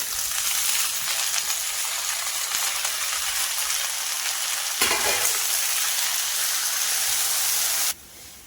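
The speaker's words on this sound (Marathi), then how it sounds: "यातच आपल्याला लगेच भाजी टाकून घ्यायची आणि यामध्ये छान परतून घ्यायचं" Ambadi (roselle) greens being sautéed in hot oil with browned onion, giving a steady loud sizzle with stirring scrapes throughout, a brief louder hiss near the middle, and a sudden drop in level near the end.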